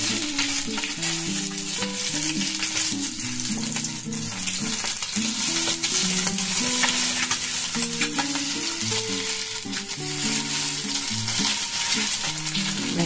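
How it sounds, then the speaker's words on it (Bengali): Eggs coated in cornflour fry in hot oil in a pan, giving a steady, close crackling sizzle with faint stirring and scraping throughout, no talking over it. "আমার দেখুন ডিমগুলো ভাজা হয়ে যাচ্ছে"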